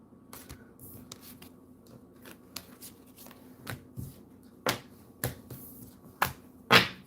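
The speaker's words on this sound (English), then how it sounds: "Let me put up these planet cards" Planet cards being handled for a tarot reading: soft, scattered taps, flicks and snaps over a quiet room, with a few sharper clicks near the end and no talking.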